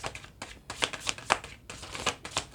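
Tarot cards being shuffled by hand, close and crisp, in quick bursts of riffling and snapping with short pauses between them.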